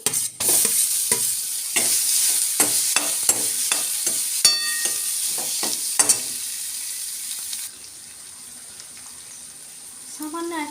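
Chhena being stirred into a hot pan of warmed coriander, cumin, cardamom and cinnamon, giving a steady sizzle with repeated scraping strokes that stop near the end, leaving a quieter tail.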